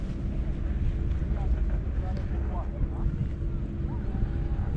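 Wind blows across a cloudy mountainside near the cable car station at 1,400 m in Sinaia, a steady low buffeting roar on the microphone throughout, with faint distant voices underneath.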